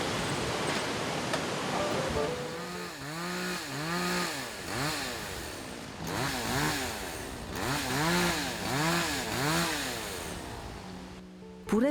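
Chainsaw carving wood in a sculptor's workshop, the engine revving up and down in repeated surges with rising and falling pitch, loud and close, no talk.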